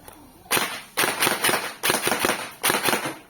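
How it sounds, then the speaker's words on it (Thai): Electric gel blaster, a PDX GT3.0 with a nylon body and self-feeding magazine, fires in several short bursts of rapid snapping shots separated by brief pauses, sharp and close, with no talk. "เวลาใส่แม็ก แล้วก็ยิงดู"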